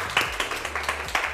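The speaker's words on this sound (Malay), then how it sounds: "Okey, tepuk tangan sikit." Small audience at a hijab fashion event clapping briefly, a handful of sparse, uneven claps rising and falling over a low background hum.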